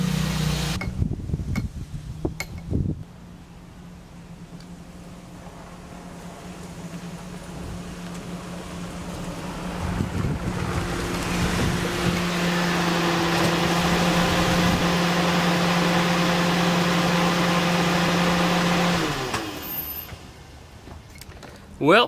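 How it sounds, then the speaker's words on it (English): A light Toyota Echo with a fixed coil pack fault hums steadily through a drive around the block, its engine drone rising and holding before it fades, with a few knocks at the start and end. "I'm gonna go ahead and take her for a cruise around the block."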